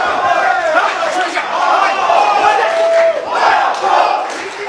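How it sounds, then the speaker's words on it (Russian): Large arena crowd roaring and shouting in support of a fighter during a bout, a loud, dense wall of voices with swelling surges throughout. "Толпа подталкивает Нурдаулета."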